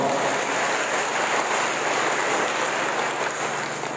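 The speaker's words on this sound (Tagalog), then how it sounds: "Isang malakas na palakpak sa ating Panginoon." A congregation at a dawn Christmas novena mass claps in a dense, even wash of applause, steady and moderately loud for a few seconds with no talk over it.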